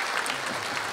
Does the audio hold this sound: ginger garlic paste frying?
no